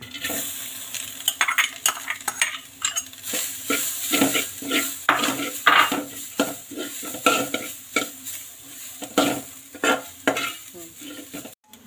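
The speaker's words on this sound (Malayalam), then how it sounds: "ചട്ടി ചൂടായിട്ടുണ്ട്. തേങ്ങയൊന്ന് വറുത്തെടുക്കാം." Grated coconut roasts in a hot pan for Kerala onion theeyal, a spoon scraping and stirring in quick, repeated strokes over a dry sizzle, close and loud, with no voices.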